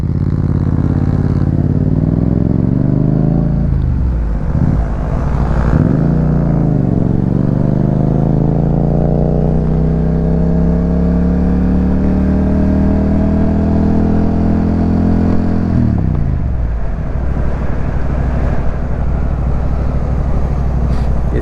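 A 1000 cc motorcycle engine revs loudly and close by, dropping briefly twice before a long, smooth rising whine that cuts back, under heavy wind buffeting.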